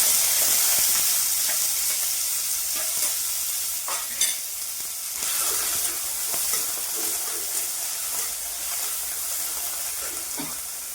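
Garlic cloves, chopped onion, green chilli and tomato frying in about two spoons of hot oil in a kadai, a loud steady sizzle throughout with occasional stirring clinks and scrapes, no voices.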